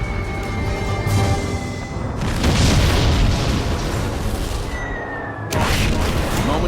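Ships anchored at Truk's anchorage exploding under bombing, a sustained loud rumbling blast that swells, fades, then bursts again near the end, dense and booming.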